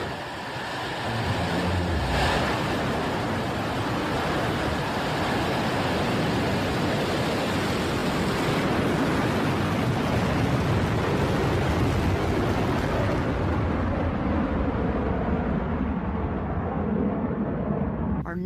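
Blue Origin New Shepard rocket lifting off with a loud, sustained broadband rumble and roar that holds steady for most of the span, the upper hiss thinning toward the end as the rocket climbs away.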